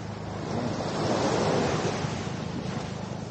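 Sea waves wash onto the beach at Jomalig Island, a steady roar of surf that swells in the middle, with some wind noise and no voices.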